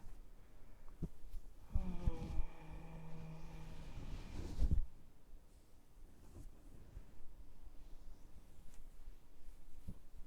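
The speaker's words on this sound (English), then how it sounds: "And do that humming a little bit more." A person hums one sustained, steady tone for about three seconds during a breathing exercise. The hum is close but soft, and before and after it only faint room noise is heard.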